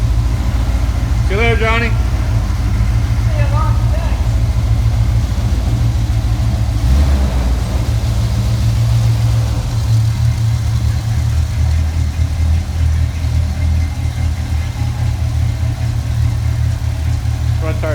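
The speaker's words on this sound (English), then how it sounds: "So there goes the Nova, all done." A 1963 Chevrolet Nova yard find rumbles at low idle nearby, then its engine note rises and gradually fades as the car pulls away, with a person speaking briefly early on.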